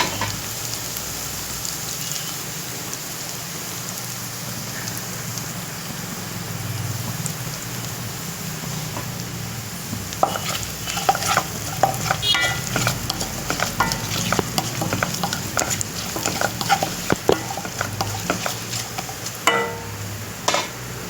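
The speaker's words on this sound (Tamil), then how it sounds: "பெருங்காயம் கொஞ்சம் சேர்த்து வதக்கிட்டு" Asafoetida sizzles with garlic in a pan for a black nightshade leaf curry, a steady close frying hiss that turns busier halfway through as a spoon scrapes and stirs in quick, irregular strokes.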